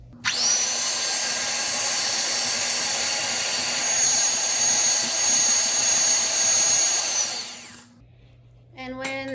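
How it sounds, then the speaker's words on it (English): An electric hand mixer beats egg whites on low speed for a Swiss roll sponge, a loud steady whirring drone for about eight seconds that then cuts off, followed by a brief clatter. "I will start with the egg whites. Start on low speed beating."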